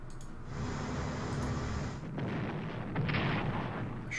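Battleship bombardment in the Strategic Command World at War strategy game, a sustained rumbling roar of heavy gunfire and explosions with a sharper burst toward the end, loud and continuous.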